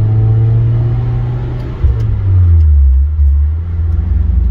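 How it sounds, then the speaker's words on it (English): Mazda Miata with a custom exhaust and the top up, engine droning low and steady at cruise, with a brief dip and rise in pitch as the revs shift midway, loud and close with no talking. "I like this sound. You guys could probably hear it with the top up right now."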